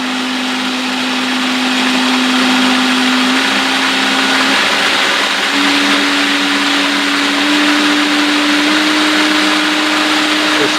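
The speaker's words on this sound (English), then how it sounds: "the pump's starting to bounce a little bit" A vacuum pump runs steadily and loud with a sustained whine, its pitch stepping slightly as the pump starts to bounce while vacuum climbs above 5 inches.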